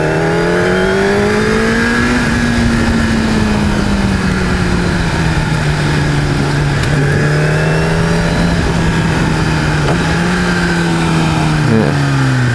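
Motorcycle engine running steadily while the bike is ridden, a loud continuous drone close to the rider that rises and falls slightly with throttle changes, with no talking.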